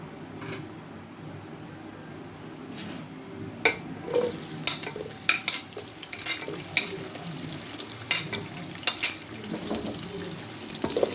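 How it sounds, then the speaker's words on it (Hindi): Cumin seeds and onion frying in oil in a home kitchen pan for a spinach and potato dish, giving a steady close sizzle with crackles and scattered sharp clinks from stirring, with no voices. "ये मैं सफ़ेद ज़ीरा डाल दिया है। ज़ीरे के साथ में प्याज डाल दूँगी"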